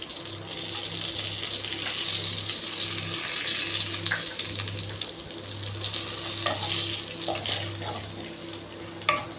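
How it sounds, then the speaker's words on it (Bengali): Dry red chilli, bay leaf and whole cumin sizzle in hot oil as a tempering for moong dal with fish head, a steady, close crackling hiss with occasional stirring scrapes. "ফোড়নের জন্য শুকনো লঙ্কা, তেজপাতা আর গোটা জিরে নিয়েছিলাম, ওটা পুরোটাই দিয়ে দিচ্ছি"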